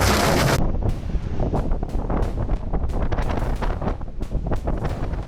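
Strong snowstorm wind roars loudly against the microphone in dense, continuous gusts with irregular buffeting bursts throughout.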